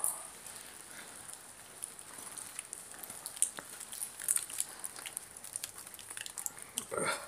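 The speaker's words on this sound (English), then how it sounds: "It's so weird with the rain coming down." Steady soft patter of rain falling near an abandoned church in Wigan, with scattered drips and taps over a continuous hiss.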